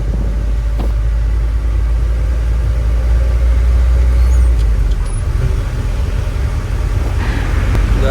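A car rolls out onto the road with a continuous low engine rumble and road noise close by, and no talk.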